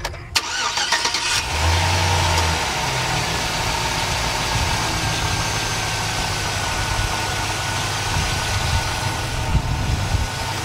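A truck engine cranks briefly, catches, and settles into a steady, rumbling idle that continues without letup.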